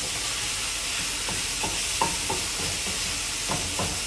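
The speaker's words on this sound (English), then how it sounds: "Let's sear up our hamburger going over here." Hamburger meat sears in a hot pan with a constant broad sizzle, while faint spatula scrapes tick through it now and then.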